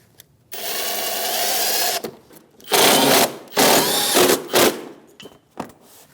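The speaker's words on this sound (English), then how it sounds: "grab that 7mm socket, snug it up" Power driver snugging a plastic fender liner fastener with a 7mm socket on a 2016-2025 Chevrolet Malibu, several loud buzzing whirs of one to two seconds each, separated by brief pauses and small clicks.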